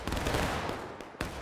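Musket volley from a line of soldiers in the Civil War battle game War of Rights, a dense crackling burst of many shots that rolls on steadily, then a sharper single crack near the end.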